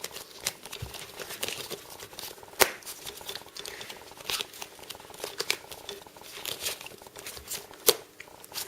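Playing cards worked through a 190 helix false cut, giving a run of soft riffling and snapping card sounds with a few sharper slaps, moderately quiet and close, with no talking.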